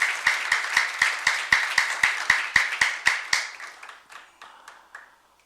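Slow, rhythmic unison clapping from a church youth congregation, about sixteen sharp claps at a steady beat that fade into a few scattered echoing claps in a reverberant hall.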